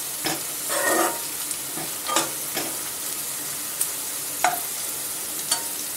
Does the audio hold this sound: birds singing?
no